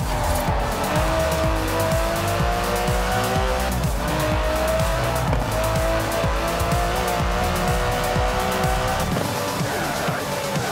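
Aston Martin DB11 in Forza Horizon 4, engine droning at steady high revs while tyres squeal and skid through corners, loud and continuous with shifting pitch as the car accelerates.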